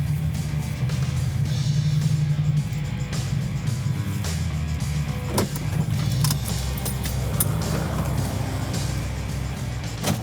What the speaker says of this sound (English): This is the 1970 Dodge Challenger RT SE 440 Magnum, one of 733 ever made.